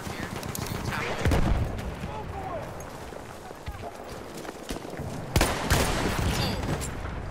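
BAR automatic rifle fire in the Battlefield 1 video game, two short bursts over a rumbling battlefield din, fairly distant and mixed with talk.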